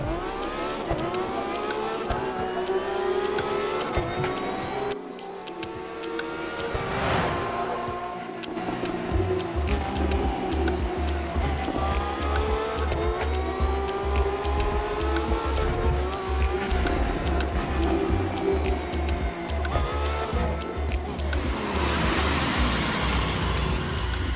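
A car drives in The Crew 2 on PlayStation, its engine droning and rising through gear changes with a steady rumble, occasional tire noise and a brief dip before revving on loudly.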